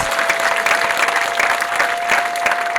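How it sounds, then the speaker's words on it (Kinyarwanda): A church congregation applauds during a worship service, a dense, loud wash of many hands clapping continuously without a break. "Muyikomera amashyi nta kibazo rwose."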